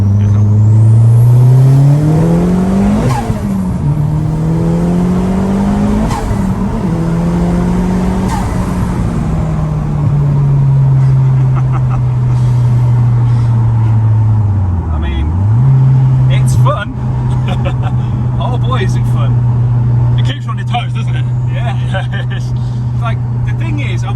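A 600 BHP Audi TT MK1 with a 2.1-litre stroker engine and a G25-660 turbo running 30 psi of boost drives with a loud, steady engine drone. Revs swell and dip briefly, and voices talk over it.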